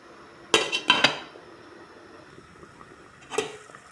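A lid clinks down onto a pot of fish soup with mixed vegetables: two or three close metallic clanks in quick succession, then quiet, then one more lighter clink.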